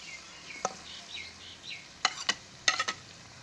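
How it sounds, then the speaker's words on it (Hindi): Okra and chicken being stirred in a frying pan for a masala bhindi recipe, with a soft steady sizzle and a few sharp clicks and scrapes of the spoon against the pan, close and alone. "थोड़ी देर पहले भुनी हुई जो भिंडियाँ हैं हम लोग इसमें डाल लेते हैं"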